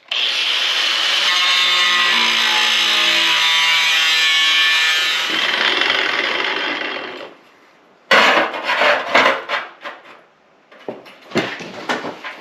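Loud, continuous grinding of a cutting tool along the seam of a metal barrel for several seconds, then a series of rough, uneven scraping and rasping bursts.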